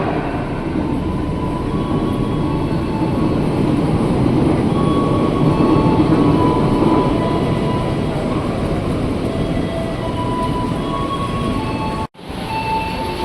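Argo Merbabu passenger train on the Gambir to Semarang Tawang route in Indonesia passing close by with a loud, continuous rumble and rattling wheels on rails, holding steady for many seconds before a brief break near the end.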